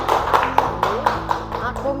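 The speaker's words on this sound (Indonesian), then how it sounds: "kita beri aplaus buat kelompoknya Asma" Classroom applause for Asma's group of students, a short burst of scattered, rhythmic hand claps under and between voices talking.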